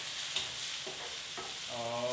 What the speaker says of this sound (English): Now we can start stirring up our mushrooms